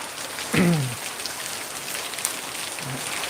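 Heavy rain pours down steadily outside a house, a dense even hiss of drops on surfaces, with a brief splash or clatter near the start.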